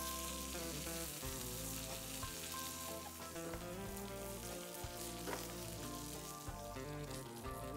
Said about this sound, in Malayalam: ഓയിൽ ഹീറ്റാക്കുക, 2 കഷ്ണം കരിവേപ്പില ഇടുക